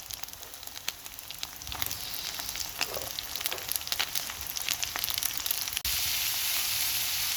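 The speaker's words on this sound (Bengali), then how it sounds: "শুটকিটা ভাজা ভাজা হয়ে আসলে অ্যাড করব পেঁয়াজ কুচি" Gonna shutki dried fish frying with chopped onion in a pan, a close, dense crackling sizzle with sharp pops that jumps to a louder, more even hiss near the end, with no voices.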